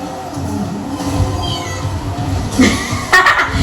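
During a Crash Team Racing gaming session, a person imitates a cat with a short drawn-out meow near the end, voiced over game sounds and background chatter.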